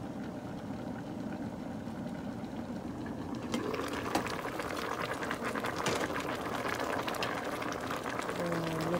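A pot of sinigang with kangkong simmering on the stove gives off a steady low bubbling hiss that grows busier and more crackly partway through, with a few faint clinks near the end.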